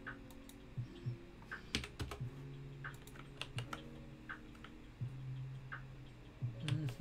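Typing on a Truly Ergonomic computer keyboard, with rapid irregular key clicks and taps in short bursts, fairly faint over a low background hum, with no one speaking.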